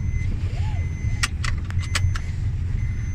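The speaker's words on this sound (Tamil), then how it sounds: "ஸோ நீங்கள் சீட் பெல்ட் போடுற வரைக்கும் இந்த பீப் சவுண்ட் வந்து உங்களுக்கு அலர்ட், அதாவது இன்டிமேஷன் கொடுத்துட்டே இருக்கும்." Maruti Suzuki Celerio seat belt warning chime, a quick run of repeated short beeps sounding from the dashboard over the low rumble of the car's engine.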